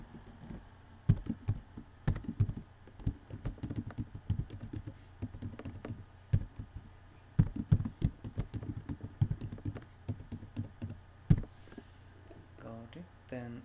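Rapid typing on a computer keyboard, entering a username and password during a software setup, with close, uneven bursts of key clicks and brief pauses between them.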